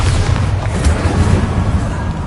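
A Bombarda spell blasts in Hogwarts Legacy, a dense rumbling explosion sustained across the moment with heavy low booms and crackling debris, loud and continuous.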